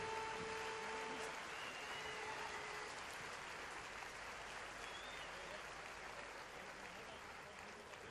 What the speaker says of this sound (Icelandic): Þetta er gott klapp.